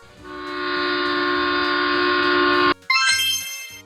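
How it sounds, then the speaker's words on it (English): A heritage train horn gives one long, loud, steady blast, then cuts off into a short gap and a brighter chiming tone, with a faint rail rumble underneath. "A heritage train is an old train kept for tourists."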